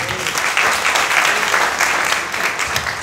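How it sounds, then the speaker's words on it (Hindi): A church audience claps steadily for about three seconds, a dense, loud burst of applause from a crowd with no talking over it. "ताली बजा."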